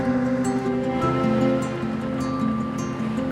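High sea waves surge and rush steadily around a rugged uninhabited island off Gwanmaedo, Korea, a loud continuous wash of surf with a low droning hum running beneath it.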